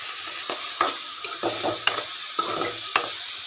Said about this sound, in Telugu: ఇప్పుడు దీంట్లోకి కొద్దిగా కల్లుప్పు, వీటన్నిటిని బాగా వేయించుకోవాలి.